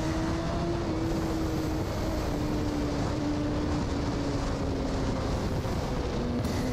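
A BMW S1000RR motorcycle pulls hard up a hill toward a toll booth, its engine a steady loud drone with rising harmonics under heavy wind rush, no voices.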